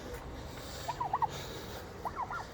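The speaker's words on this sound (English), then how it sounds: "So for little turkeys, dumbest animals on the planet." Turkeys on a farm gobble in two short bursts of warbling calls, moderately near above a faint, steady outdoor background with no talking.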